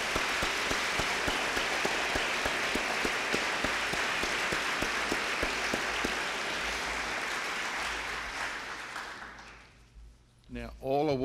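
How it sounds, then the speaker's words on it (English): Sustained applause from a conference audience in a war memorial hall, honoring young award winners at a closing plenary session; steady clapping for several seconds gradually thins and fades out, with a voice starting right at the end. "So please give these fortunate young fellows a round of applause."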